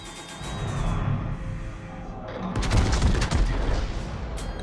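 Italian battleship guns fire in a naval video game, a deep booming salvo with a rumbling, crackling tail at moderate loudness over a steady engine-like drone, with no talk over it.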